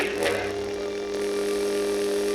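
A Galaxy's Edge Luke Skywalker legacy lightsaber idles, holding a steady low electric hum with faint buzzing overtones, close by and without talking.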